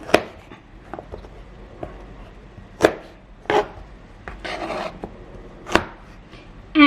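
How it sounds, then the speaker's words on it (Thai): Mango being cut in half on a board for Thai sour curry with fish, the knife thudding down in a few sharp separate chops over a quiet background. "แบ่งครึ่งเลยนะครับ ตัดครึ่งไปหมดเลย"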